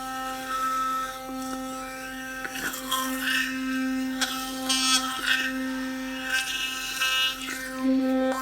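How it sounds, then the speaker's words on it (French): Teeth being brushed with an electric toothbrush, a steady close buzzing hum whose pitch and scrubbing texture shift as the brush moves around the mouth, with brief rasping strokes and no talking. "je vais aller me brosser les dents"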